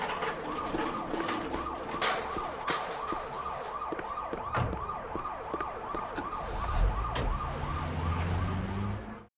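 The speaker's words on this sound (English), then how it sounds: "Ambulance." An ambulance siren in a children's transport cartoon wails continuously with a rapid, repeating rise and fall. It is loud and steady throughout, with a low vehicle rumble underneath toward the end.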